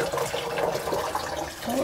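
Water from a jar of pickled cucumbers poured out into a sink, a steady close splashing stream that runs throughout without pause.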